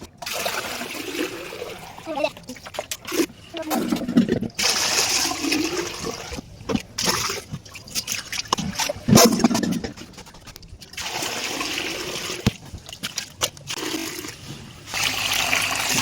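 Moina culture is rinsed in water, producing repeated bursts of splashing, pouring and trickling separated by short quiet gaps, with the sloshing swelling and fading irregularly.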